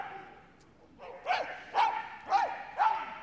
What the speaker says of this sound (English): will no doubt bark her entire way around the course